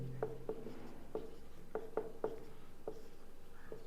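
Chalk or marker strokes on a board, a series of soft taps and scratches at an irregular pace, quiet and close, with no talking.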